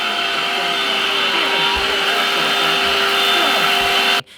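A household vacuum cleaner runs steadily with a loud, whining motor hum and faint scraping as it moves, then cuts off abruptly at the end.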